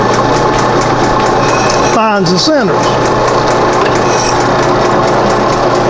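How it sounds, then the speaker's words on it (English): A steady mechanical drone of a large drill press runs throughout, with a person talking briefly over it in the middle. "You see this drill press here is a large drill"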